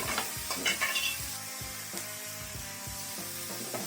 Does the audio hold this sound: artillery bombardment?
no